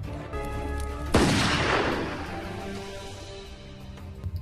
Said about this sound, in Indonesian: Macintosh menembak kepalanya sendiri dengan bedil buluknya.